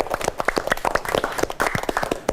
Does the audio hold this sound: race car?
no